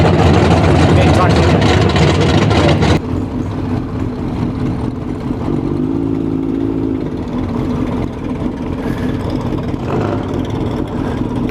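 Kawasaki Z H2 motorcycle at a drag strip, its engine droning steadily with a brief rev rising and falling in the middle, while a person talks over it at close range.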